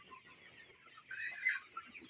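Chickens clucking softly in a poultry shed during the rainy season, a faint scattered murmur of clucks that rises briefly near the middle, with no talking.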